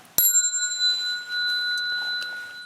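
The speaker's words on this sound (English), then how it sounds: "Bell sound wide resounds throughout 100 million worlds" A single bell at a Buddhist temple is struck once, ringing out with a bright, clear tone that lingers and slowly fades over the next two seconds in a quiet room.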